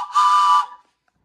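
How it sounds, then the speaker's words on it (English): A homemade train whistle cut from a scrap 2x2 of wood gives one steady, piercing blast lasting about half a second, loud and close, then cuts off into silence. "a simple wood project that can make it sound like a train"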